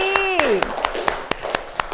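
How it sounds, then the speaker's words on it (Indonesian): A classroom of children claps for a classmate named Chelsea, a brisk run of evenly spaced claps that follows a teacher's rising, sliding voice, with talk around the clapping. "Hebat, kita tepuk tangan buat Chelsea."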